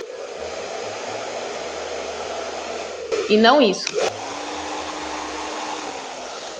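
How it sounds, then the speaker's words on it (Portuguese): A hair dryer blows steadily through the whole stretch while styling short hair, a constant broadband whoosh, close and fairly loud, with a brief burst of a woman's speech in the middle. "Aí, vai pro secador"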